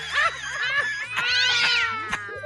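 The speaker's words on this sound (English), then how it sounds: "Some water on that cat." A cat yowls and caterwauls in drawn-out, wavering cries, several rising and falling calls close and loud over about two seconds, with no talk.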